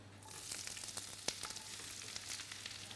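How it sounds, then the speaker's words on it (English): Sliced red onions fry in butter and olive oil in a preheated pan, giving a soft, steady sizzle with a few faint crackles and one small clink. "Now in some sliced red onions."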